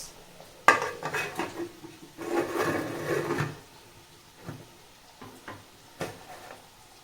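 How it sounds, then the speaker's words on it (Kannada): A metal cooking pot lid is set down with a sharp clank, followed by a burst of rattling and scraping of cookware during biryani preparation, then a few lighter taps, all without talk. "ಸೊ ಕ್ಲೋಸ್ ಮಾಡಿಬಿಡೋಣ ಲಿಡ್ನ"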